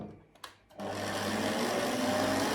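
An electric mixer kneads the cheese mass for a poppy seed cheesecake, starting after a few faint knocks and then running as a steady, fairly close motor whir to the end.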